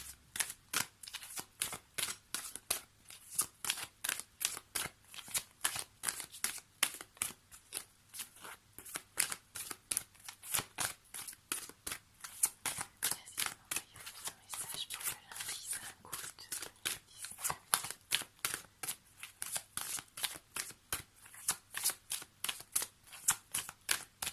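Tarot cards being shuffled in a steady run of crisp, rapid riffles and flicks, close and fairly quiet, repeating without pause and with no talk over them.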